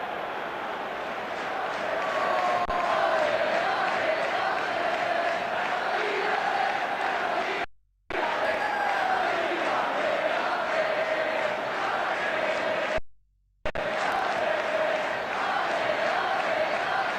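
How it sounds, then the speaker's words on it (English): Simulated stadium crowd noise from the eFootball PES 2022/2023 video game on PSP: a loud, steady roar of fans that holds throughout, broken by two abrupt brief silences. "The crowd wait to offer them a red-hot welcome."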